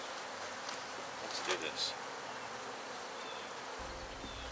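Honey bees buzz steadily around an open hive whose frames were too wide to fit back easily, a dense continuous hum up close with a brief louder flurry, and a voice speaks a few words over it.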